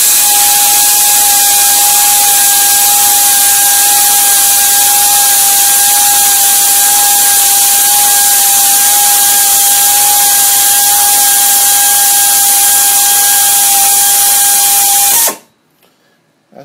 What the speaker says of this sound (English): That's 3/4 inch tap, went right through 1 inch thick plate steel